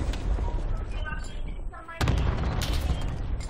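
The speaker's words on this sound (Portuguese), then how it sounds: "Tem gente atirando já, viu?" Gunfire in a multiplayer shooter video game, a few distant booming shots and short bursts, with a sharp louder burst partway through, under background game noise and faint talk.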